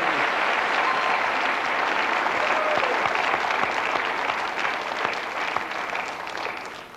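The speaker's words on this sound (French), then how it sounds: "Emmanuel Fairplay qui applaudit Philippe." Sustained studio audience applause on a French TV quiz show, a dense, even wash of clapping that holds steady for several seconds and fades slightly at the end.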